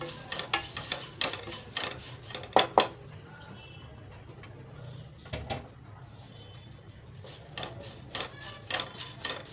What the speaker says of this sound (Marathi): हे पोहे घालायचे आपले जाडे पोहे आणि परतून घ्यायचे मस्त असे